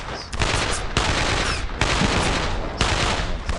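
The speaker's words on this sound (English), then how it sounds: "Assault rifle." Assault rifle fire in the World War II shooter game Brothers in Arms crackles in four long, loud, dense automatic bursts separated by brief pauses.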